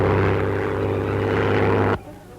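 Propeller-driven 1930s military aircraft of the Spanish Civil War roar in a steady, loud, droning engine hum that cuts off abruptly near the end, leaving quieter background noise.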